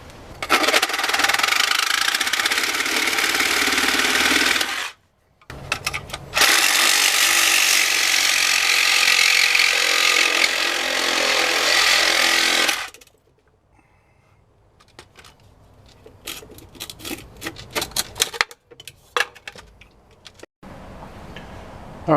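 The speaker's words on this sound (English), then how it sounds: "so I'm going to have to cut those off" Power tool cutting through rusted screws on the plastic cover of an in-ground pool pump's power supply: two long, loud bursts of grinding-sawing noise separated by a short pause, then scattered clicks and scraping handling sounds.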